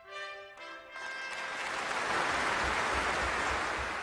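Applause fills a hall at a Nobel Prize ceremony, rising from a faint opening into sustained, dense clapping from a large crowd, heard at a moderate distance and holding steady to the end.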